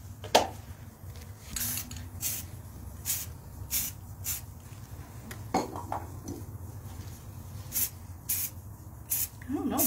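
Spray paint hisses in short, repeated bursts onto the surface of a water bath while hydro dipping a tumbler, close and fairly quiet, with small clinks and handling noises between sprays.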